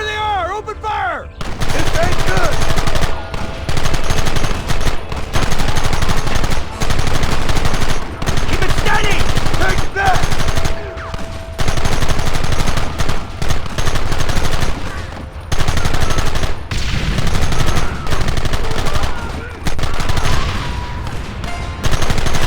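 Dense, continuous gunfire from the Western game Red Dead Redemption, with rapid volleys and overlapping shots filling the whole stretch, loud and close, with a few faint game voices in the mix.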